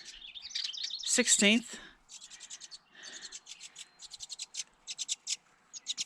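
Young birds chirp from a nest built inside a deck pipe in the Lincoln National Forest near Cloudcroft, New Mexico, giving rapid rhythmic peeping bursts close by. A voice speaks briefly first, over a scratchy rustle.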